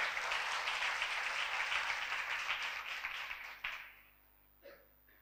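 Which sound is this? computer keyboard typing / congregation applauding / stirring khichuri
congregation applauding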